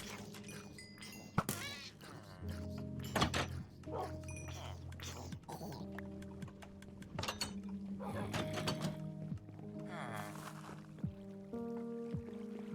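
Minecraft cat meowing in a hardcore survival world, several short mews scattered across the clip amid game sounds and music-like tones, with a person talking throughout.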